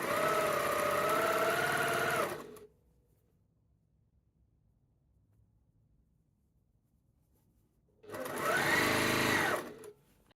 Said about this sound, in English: So I'm gonna put my headphones on and just sew.